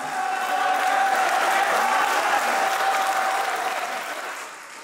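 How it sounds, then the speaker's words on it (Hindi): Sustained applause from an audience at a poetry mushaira, loud and steady for several seconds before tapering off toward the end. "भरपूर तालियां भी बजाते रहिए"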